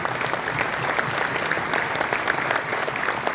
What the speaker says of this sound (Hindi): तालियां आपकी थोड़ी कम थी।